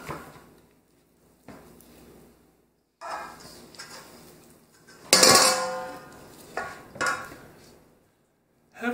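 Mixing bowl clattering on a countertop while bread dough is coil-folded by hand, a few scattered knocks and scrapes with one loud ringing clang in the middle, separated by quiet gaps.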